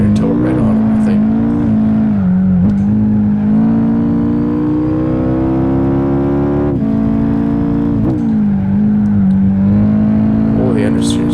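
Honda Civic race car engine in Gran Turismo 5 during an 80's Japanese Cup race, a steady loud droning whine that rises and falls with shifts, with people talking over it throughout.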